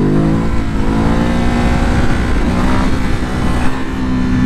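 A Ducati Hypermotard 950 SP motorcycle accelerating hard in second gear while wheelieing, a loud, close, steady engine roar with rising harmonic tones throughout and no speech.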